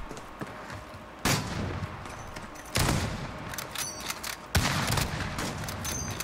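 Gunfire in a video game, a steady rattle of shots with three heavier blasts spaced about a second and a half apart, loud and close, with no speech over it.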